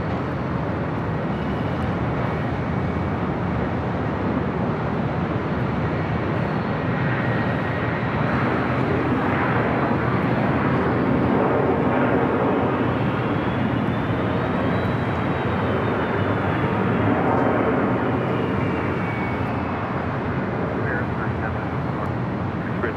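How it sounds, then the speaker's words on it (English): An Airbus A350-900 airliner lines up on runway 24 left at LAX, its engines a continuous broad roar with a faint rising whine, while a voice talks over it. "This flight heading to Atlanta, Georgia, A350-900."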